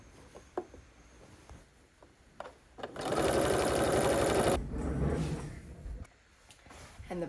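A sewing machine stitches along the hem line of a quilted tote bag's lining in one steady, fairly loud burst of about a second and a half, with quiet handling noises before and after.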